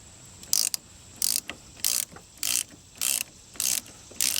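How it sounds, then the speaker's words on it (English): A 3/8 ratchet fitted with a 1/2 inch deep socket cranks loose a bolt on a Ford F250 7.3L diesel, giving steady bursts of sharp clicking in a regular back-and-forth rhythm, close and loud. "we have a 1/2 inch deep well here on my 3/8 ratchet, and let's see if we can get on that bolt right there and get that loose"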